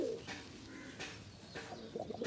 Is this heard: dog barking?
no